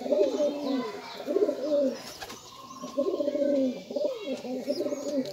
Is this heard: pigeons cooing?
yes